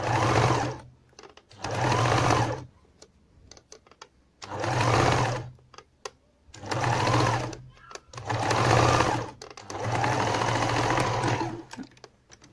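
Sewing machine stitching over existing seams on a homemade pincushion runs in five or six steady bursts of a few seconds each, separated by short pauses, close and clear with no talking.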